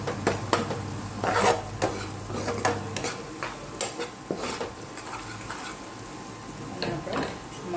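Palak pakoda batter with red chili powder being stirred in a bowl, giving a series of close, irregular scraping and clinking strokes with light background noise.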